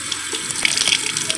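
Tap water runs steadily into a sink for washing clothes, a continuous close splashing stream with small bright spatters throughout, no voices.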